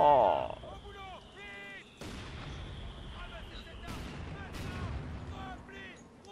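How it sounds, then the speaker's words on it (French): Artillery bombardment in the Company of Heroes 2 video game: repeated heavy booms and rumbling blasts roll through about six seconds, with voices talking over the barrage. "j'ai de nouveau un bombardement"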